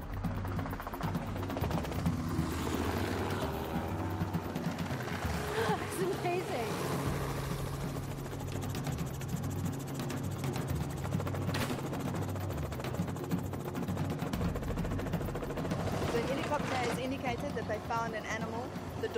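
A helicopter's steady rotor thump and engine drone continue throughout as it scouts over the Kapama Reserve, with a voice talking over the noise now and then.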